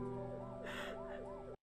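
A faint 1980s-style siren wails in slow rising and falling sweeps, distant and thin over a steady hum, cutting off abruptly.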